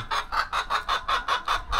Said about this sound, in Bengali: আমার ফাউমি মুরগি আছে মিশরের